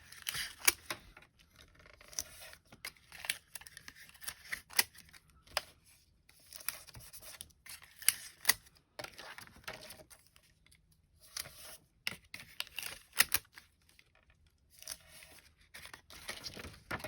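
Tape is pulled and pressed onto paper in a junk journal, giving close, intermittent crinkles, rustles and short tearing scrapes with quiet gaps between them and no talk.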